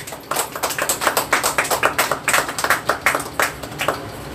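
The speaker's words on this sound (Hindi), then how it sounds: "जोर से ताली बजाते हैं" A crowd at a worship service claps loudly in a fast, steady rhythm of sharp, close slaps, with no voices over it.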